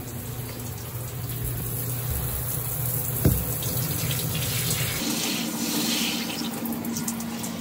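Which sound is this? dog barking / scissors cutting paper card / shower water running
shower water running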